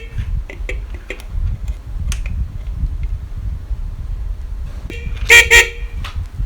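A small, fairly old Honda CD 70 motorcycle horn beeps twice in quick succession, short and nasal, near, over a low rumbling background with faint clicks and taps.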